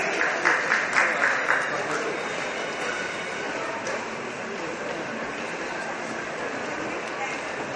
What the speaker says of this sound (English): give a round of applause to all the panelists